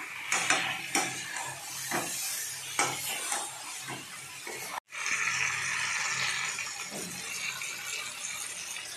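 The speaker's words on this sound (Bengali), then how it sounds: "এই বাকি সব উপকরণগুলো দিয়ে খুব ভালো করে কষতে হবে বেশ অনেকক্ষণ।" A spoon scraping and clanking against a metal pan as chicken is stir-fried with spices, giving irregular close metallic knocks and scrapes over a steady background hiss, with a brief cutout midway and no voices.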